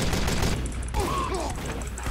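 Rapid gunfire in Team Fortress 2, a dense close fusillade of shots packed tightly over about two seconds, loud and continuous with no pauses.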